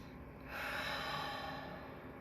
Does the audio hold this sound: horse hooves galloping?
no